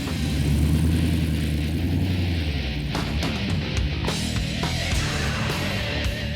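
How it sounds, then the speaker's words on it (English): A 300-horsepower road-registered motorcycle in Australia revs and rides off, its deep engine rumble loud and close at first, then shifting pitch as it pulls away. "the government will allow you to ride a 300 horsepower motorcycle on the road?"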